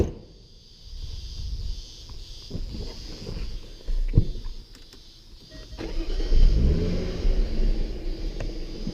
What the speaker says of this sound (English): on the outside it's still got that raspy sort of V6 crack to it